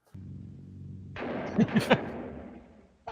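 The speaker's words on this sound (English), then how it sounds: "Oh, and there's gunshots" Gunshots in the 1982 slasher film Honeymoon Horror: three quick sharp cracks in a row over a rumbling, noisy film soundtrack, fairly close and moderately loud, followed by a fading tail.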